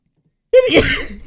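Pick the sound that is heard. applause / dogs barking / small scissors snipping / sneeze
sneeze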